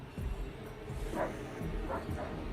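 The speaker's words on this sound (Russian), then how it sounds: "Вон там собачки." Dogs bark on a coastal walking trail on Cape Meganom near Sudak in Crimea, with a few short yelps and barks spaced apart, fairly distant and quiet over the background.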